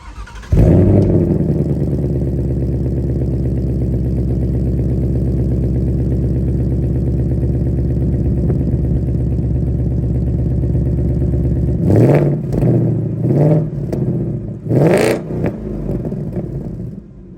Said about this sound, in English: That is a pretty awesome sounding exhaust, if I don't say so myself.